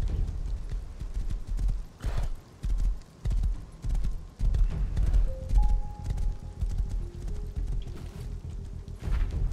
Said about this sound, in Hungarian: Ott van még egy ló.